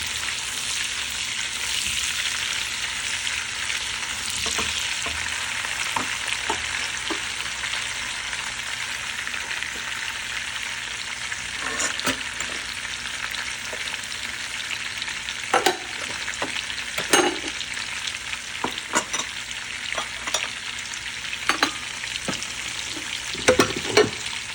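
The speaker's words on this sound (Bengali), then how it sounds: "আমি যেভাবে আলুটা ভাজতেছি এইভাবে আপনারা ভেজে নেবেন।" Potato pieces frying in a mix of ghee and oil give a constant loud hiss up close, with scattered scrapes and knocks of a spoon stirring them, growing sharper near the end; nobody talks.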